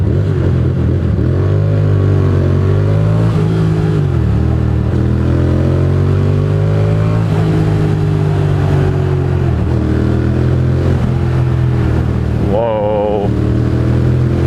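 A loud motorcycle with an aftermarket exhaust idles with a deep rumble, then revs sharply a few times, its throaty exhaust rising and falling, with a voice speaking over it.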